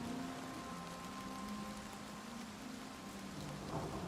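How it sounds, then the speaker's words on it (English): Rain and thunder weather effects in the Oblivion Remastered video game form a faint, steady wash of rainfall with a low rumbling undertone and a soft hum running beneath it. "this is the first time I've seen it rain"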